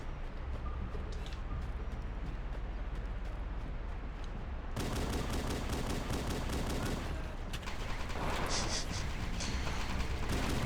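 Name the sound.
gunfire at a Covenant dropship in Halo video game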